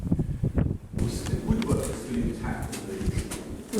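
A pigeon coos close by near its nest inside a drawbridge counterweight machinery room, soft repeated low calls over faint shuffling and room noise.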